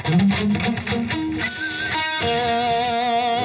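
Electric guitar playing part of a solo, with quick picked notes giving way to sustained, vibrato-laden high bends, distorted and effects-heavy, close and alone over a low backing.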